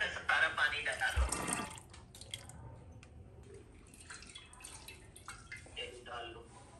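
Water poured into a cooking pan coated with stuck-on milk while making chana dal halwa, a brief splashy pour followed by quieter dripping and sloshing, with a person talking throughout.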